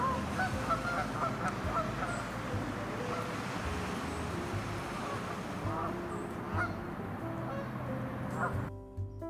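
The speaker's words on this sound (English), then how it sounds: "we'll find that these geese are coming in for a landing" A flock of geese honking as they come in to land outdoors, loud overlapping calls and cries close by, continuing steadily until an abrupt stop.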